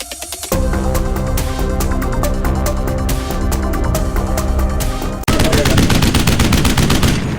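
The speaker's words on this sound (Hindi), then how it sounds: "आप देख सकते हैं कि बहुत एक जोरदार धमाका सुनाई दिया है और फायरिंग का सिलसिला दोबारा शुरू हो गया है।" Sustained bursts of rapid gunfire rattle loudly and continuously, with a sharp heavy blast midway that sets off a renewed, denser volley of shots.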